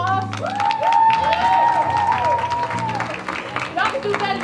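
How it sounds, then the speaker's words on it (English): An audience at a community dinner gives a round of applause and cheers, a moderate burst of clapping with whoops and shouting voices over it. "Can we get a round of applause?"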